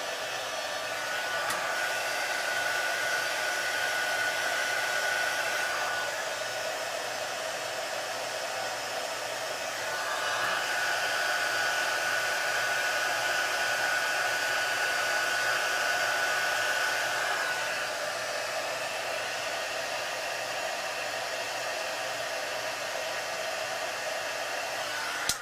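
Heat gun blowing hot air to shrink heat shrink tubing onto a wire, a steady close whooshing fan roar with a faint whine, swelling in two longer passes with no talk.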